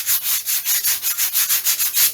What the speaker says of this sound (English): one part of the rib is sanding and the other part isn't because of the gentle angle of the cut